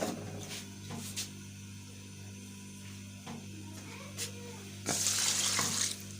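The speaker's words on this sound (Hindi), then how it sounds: "हमने इसमें तकरीबन 2 लीटर पानी ऐड करना है" Roughly two litres of water pour into a big pot holding three kilos of mustard greens for sarson ka saag. The flow is a low, steady rush, with a few clinks along the way and a louder, brighter splash near the end.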